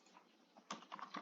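Fingers tap a computer keyboard during an R programming lesson, a faint scattering of clicks followed by a quick burst of several louder keystrokes, with no speech.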